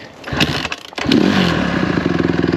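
A dirt bike engine catches and revs, rising from sputtering pops to a loud, close, steady buzzing drone with a rapid throbbing pulse that holds to the end.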